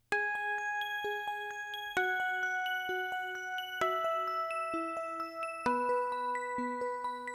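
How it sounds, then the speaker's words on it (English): Synth bell layer rich in harmonics for a 90s R&B beat, ringing in a steady pattern of repeated chiming notes that shift pitch every couple of seconds, loud and sustained with no voices. "Then I have this other layer, which is the bells with harmonics,"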